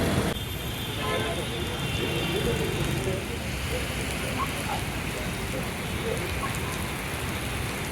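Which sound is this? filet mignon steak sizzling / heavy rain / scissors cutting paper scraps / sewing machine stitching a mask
heavy rain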